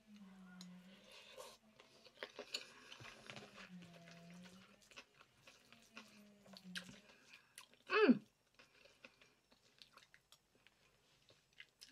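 A spoonful of Korean takeaway with egg, spicy pork, rice and cucumber is chewed close up in soft, wet, squishy bursts. A low hum runs underneath, and a brief louder clatter comes partway through.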